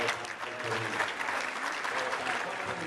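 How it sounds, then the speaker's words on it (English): Steady applause from a crowd at a junior premium livestock auction, continuous clapping with some faint voices mixed in. "Let's give him and his wife a good round of applause"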